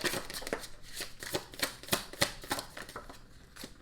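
Tarot cards are shuffled close up in a quick, irregular run of crisp riffling snaps and soft slaps, fairly quiet and with no talk.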